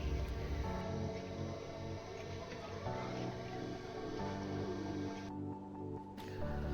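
Aquarium gravel is cleaned while water drains off, giving a continuous close gurgling, sloshing wash of water with soft squishing and dripping throughout.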